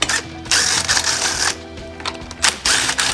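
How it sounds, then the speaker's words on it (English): Bolts being removed from a Honda GXV 530 engine's carburetor, several short bursts of close ratcheting and metallic clicking separated by brief pauses, fairly loud. "Next, we'll go ahead and pull out these 4 bolts."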